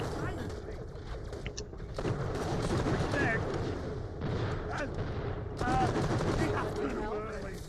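Revolver gunfire in the video game Borderlands: The Pre-Sequel, rapid sharp shots and bursts layered with dense in-game combat noise and effects, with a player voice talking over parts of it.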